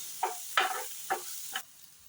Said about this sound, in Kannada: ತುಪ್ಪ ಹಾಕಿದ್ದೇನೆ, ಜೀರಿಗೆ ಸ್ವಲ್ಪ, ಹಸಿಮೆಣಸು ಕಟ್ ಮಾಡಿಟ್ಟದ್ದು, ಈರುಳ್ಳಿ. ಚೆನ್ನಾಗಿ ಫ್ರೈ ಮಾಡುವ.